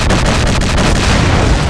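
Rapid automatic gunfire in the video game Mafia 1 comes as loud, dense, booming shots in quick succession that fill the whole moment with no talk.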